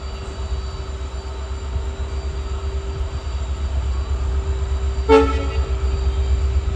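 The Mysuru to Chamarajanagar express train rumbles steadily nearby with a low, continuous roar, and a short horn toot sounds once near the end.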